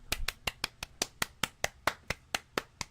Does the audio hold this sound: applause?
yes